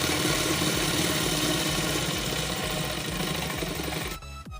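A sewing machine runs steadily, stitching a second line along a salwar seam, a loud, close, rapid mechanical chatter that continues without pause for several seconds before stopping abruptly.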